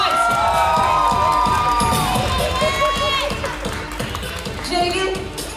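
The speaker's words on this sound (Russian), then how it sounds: "они создают нам суперские овации" Crowd at a kids' all-styles dance battle clapping and cheering loudly, with shouts and whoops from children over rhythmic clapping, continuous and close, fading a little toward the end.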